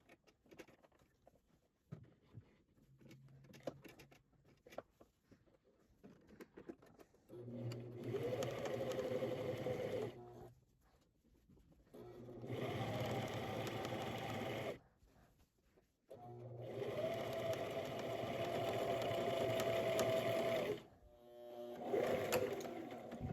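A sewing machine quilts long straight diagonal lines across lining pieces for a book sleeve, running in three long steady bursts of stitching separated by brief pauses and handling noises, close and fairly loud with no talk.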